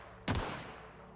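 A single shotgun blast from The Outer Worlds, one close, punchy boom with a short fading tail.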